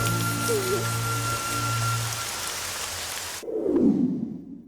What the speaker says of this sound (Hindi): तुम्हें कैसे पता था कि बारिश होगी?